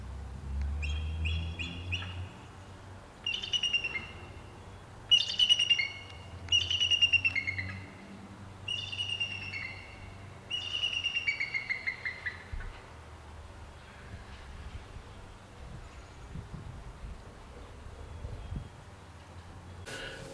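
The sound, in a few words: pet birds chirping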